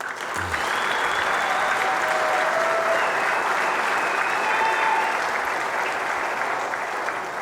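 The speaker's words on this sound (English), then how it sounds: "That round of applause is for Billy Thorpe" Steady, dense applause from a pool hall audience at the Derby City Classic, clapping for player Billy Thorpe in a banks ring game; loud and sustained throughout, with faint voices and a few higher whistles or calls drifting over it.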